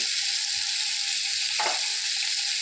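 Ingredients sautéing in a frying pan with a constant close sizzle and a brief stir or scrape partway through, no talking.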